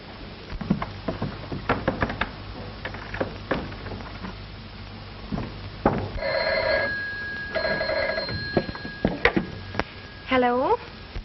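An old telephone bell in a 1936 Western rings in two short bursts, following a stretch of voices and scattered knocks and thumps.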